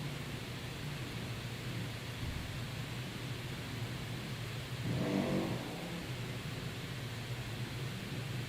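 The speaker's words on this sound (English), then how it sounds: "Oh, the red junior dragster of Eli Edwards." A red junior dragster makes its bye run at a motorcycle drag racing event, a distant engine rising in a brief rev swell over steady broadband background noise, faint and far off with no talk.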